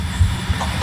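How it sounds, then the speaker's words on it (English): Roblox train pulled by two SC40-2 locomotives, a short, loud low rumble with a couple of deep thumps like wheels crossing rail joints. "this train's powered by two SC40-2s"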